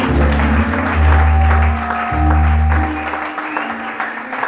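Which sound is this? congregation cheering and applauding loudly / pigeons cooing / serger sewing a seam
congregation cheering and applauding loudly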